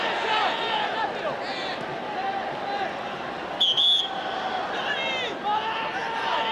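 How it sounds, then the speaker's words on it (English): A referee's whistle blows for a free kick during a 1996 Intercontinental Cup football final between Juventus and River Plate, a short sharp blast heard over steady crowd roar and a commentator talking throughout. "Whistle's gone for a free kick."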